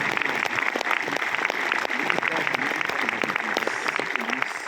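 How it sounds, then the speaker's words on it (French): Cinema audience at a film premiere with Le Palmashow in Colmar applauds steadily for several seconds, with voices mixed into the clapping. "vous pouvez vous applaudir"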